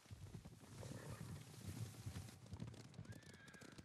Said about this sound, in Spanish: Caballos, vienen a por nosotros.